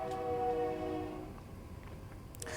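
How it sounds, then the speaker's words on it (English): A train passes outside, heard faintly through the walls as a low rumble with a brief tonal horn-like whine that fades, quiet and distant, with no voices. "Sorry about the train coming by outside."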